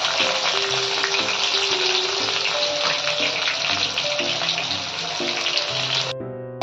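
Sliced onions sizzle loudly as they hit hot oil in a pan during home cooking, a dense steady crackle held throughout before cutting off near the end.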